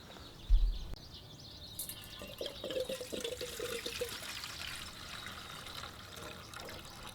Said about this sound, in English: So I'm gonna go ahead and pour this fuel out.